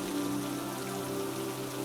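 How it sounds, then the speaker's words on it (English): Rain falls steadily on old rock, a dense, continuous hiss of drops with no pauses, close and even in loudness throughout. "Rain falls on the old rock."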